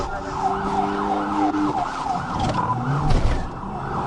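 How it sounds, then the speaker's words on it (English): A police trooper's siren wails in a rising and falling pattern during a motorcycle chase, fairly loud over road and engine noise, with a brief clatter of other sounds near the end. "The trooper activated his emergency lights and sirens to stop McKinney"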